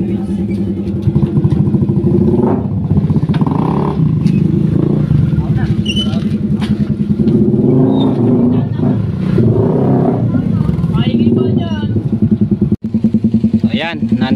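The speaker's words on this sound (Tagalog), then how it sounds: "Kaingay ng motor nito ni Kautol. Kaganda ng tambutso." A loud motorcycle engine and exhaust rumbling and revving nearby during an outing, continuous and heavy throughout, with people talking over it.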